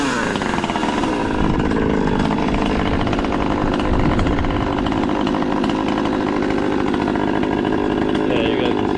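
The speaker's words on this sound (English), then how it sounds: "I don't want to shut the saw off. We're gonna go over to the wood pile here." A Stihl-style T540 MKIII chainsaw runs loud and close, revving and bogging as it cuts through very dry, old ash wood, with a steady rasping engine drone throughout.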